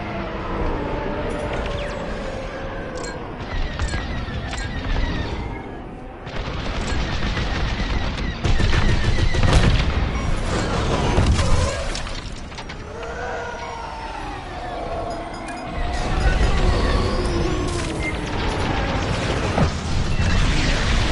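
Loud, dense video-game gunfire in rapid bursts with mechanical clatter and heavy impacts, continuing for the full stretch with brief lulls, no voices.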